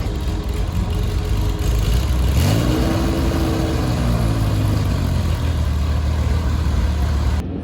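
A Porsche Carrera RSR at a historic racing meet on the Dijon-Prenois circuit, its engine rising and falling as it revs up and down nearby, loud and steady throughout with a sharp climb in pitch midway.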